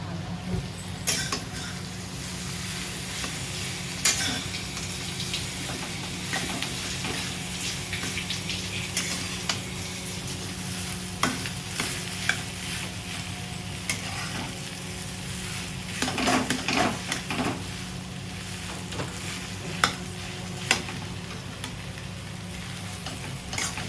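Spiced masala dosa potato filling being stirred on a cast iron tawa, a steady frying sizzle under repeated scraping and clinking of the spatula against the iron, with a busier burst of stirring partway through.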